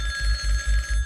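A banana-shaped phone rings in the Jazzpunk video game: a loud, bright electronic bell pulsing in quick, regular bursts, with no talking.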